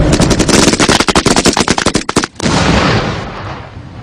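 Belt-fed machine gun with a 200-round box magazine firing a long sustained burst at about 850 rounds per minute, loud rapid cracks that stop abruptly, followed by a ringing echo fading across open terrain.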